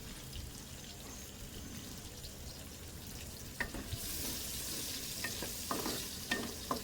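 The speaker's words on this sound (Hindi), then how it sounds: "थोड़ा सा हमने इसको तेज़ आंच पे फ्राई करना है।" Capsicum and onion frying in ghee over high heat, a dense, steady sizzle with occasional stirring clicks and scrapes that grow brighter and busier in the second half.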